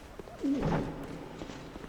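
A bird character in Dark Souls II gives a short, soft cooing call, a single low warbling coo rising and falling over about half a second against faint game ambience.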